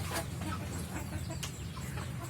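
Several chickens cluck close by, kept hungry and thirsty with water withheld since the previous afternoon, their calls steady and overlapping against constant low coop noise, with no talk.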